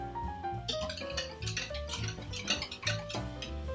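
A whisk or fork stirs an egg, vinegar and cold water mixture for a shoofly pie crust in a bowl, giving quick irregular clinks and taps of utensil against dish, close and fairly loud over faint background music.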